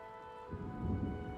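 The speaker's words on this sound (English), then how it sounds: "Did you hear the thunder just now?" Rain and a low rolling rumble of thunder in a stormy scene from the video game Fire Emblem: Three Houses, a soft rain hiss swelling as the faint thunder builds beneath a steady musical tone.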